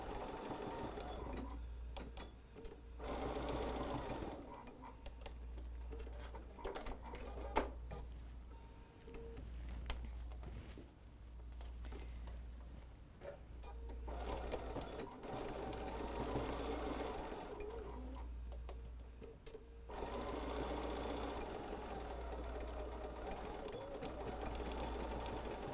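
A sewing machine stitches a fabric face mask in repeated bursts of steady mechanical whirring, pausing briefly between runs, close and clear with no talking.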